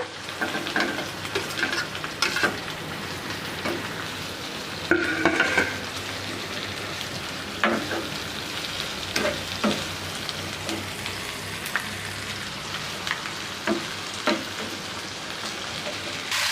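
Methi chicken curry masala with tomatoes sizzles steadily in a pan while a spoon stirs it, scraping and clinking at irregular intervals over the constant crackle of frying.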